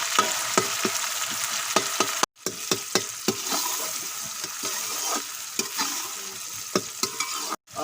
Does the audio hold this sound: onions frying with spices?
yes